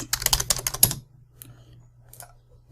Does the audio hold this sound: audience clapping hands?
no